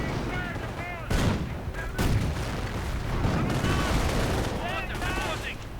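Machine gun fire from an MG-42 mounted on a StuG assault gun in a World War II strategy game, heard as heavy rattling bursts and booms amid dense battle noise, with whistling shells overhead.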